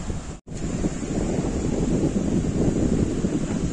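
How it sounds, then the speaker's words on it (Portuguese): Rough, choppy sea at high tide on a beach in Maceió, Alagoas, heard as a loud continuous wash of surf mixed with heavy wind buffeting the microphone, with no talking. "Só o mar que não tá aquelas coisas todas, acho que tá, a maré tá alta, bem mexido ali."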